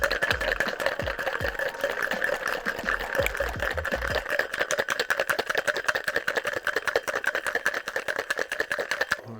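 A cocktail is shaken hard with ice in an insulated flask, a fast steady rattle of ice chunks against the walls continuing for about nine seconds, close and fairly loud with no talk.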